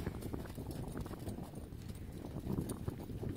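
A newly trained hunter-under-saddle mare trots along, her hooves clip-clopping in a steady, close rhythm for the whole stretch with no talking over it.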